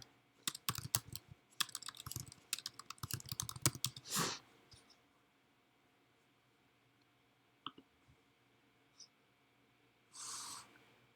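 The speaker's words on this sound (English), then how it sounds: "all you gotta do is type in a keyword" Fast clattering keystrokes on a computer keyboard for a few seconds, then a louder thump and a few scattered clicks, with a faint breathy noise near the end.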